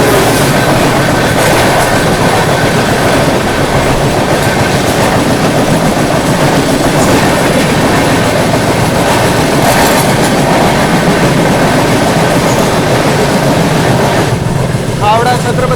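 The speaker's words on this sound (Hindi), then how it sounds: "सामने से आ रही है आप लोगों की हावड़ा CSMT मेल वाया गया।" The Howrah CSMT Mail train rushes past on the opposite track during a crossing with the 12141 Patliputra SF Express, making a loud, continuous rumble and clatter of wheels. A brief squeal comes near the end.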